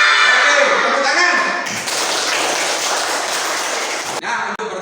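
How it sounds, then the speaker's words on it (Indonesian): A class bursts into clapping, a dense wash of many hands that fills the room for a few seconds before cutting off abruptly. "Oke, tepuk tangan."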